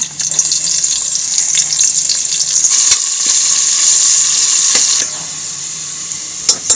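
Onions fry in about three tablespoons of hot oil for a tempering, giving a close, steady crackling sizzle that runs throughout, with a few sharp clicks near the end and no talking.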